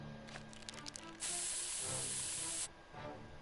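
Pepper spray hisses in a video game as one sustained, loud, sharp burst lasting over a second, set between quieter scuffing sounds.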